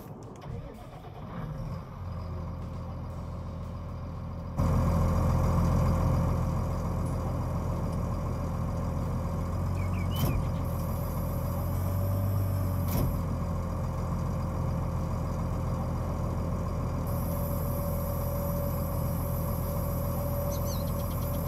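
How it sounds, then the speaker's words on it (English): A tractor pulling a cultivator in Farming Simulator 19 starts up, then its engine settles into a loud, steady, low diesel drone that runs unbroken for the rest of the stretch, with a brief rise in the middle. "Go to your tractor, attach the weight and cultivator, and cultivate the field as you do usually."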